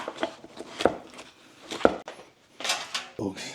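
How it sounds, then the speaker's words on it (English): A knife slices through grilled chicken dressed in Alabama white sauce, with a few sharp cutting and clinking strikes against a board or plate and quieter scraping between them, close by. "Let's get to slicing."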